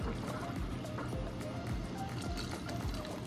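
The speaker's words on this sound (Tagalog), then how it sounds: "Ngayon, dagdagan natin ng tubig." Water pours into a pot of simmering beef bulalo soup, a steady gushing and splashing stream that runs throughout, close and moderately loud.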